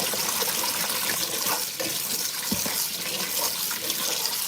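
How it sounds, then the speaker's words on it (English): A kitchen tap runs into a large pot of dry beans being rinsed, a steady close splashing rush with a few sloshes and knocks against the pot and no voices. "I'm just going to rinse off my beans."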